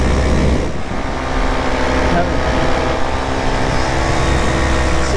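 An Atom 80 paramotor engine runs at full throttle in flight, a loud, steady, dense drone that holds constant throughout with faint wind buffeting, no voices.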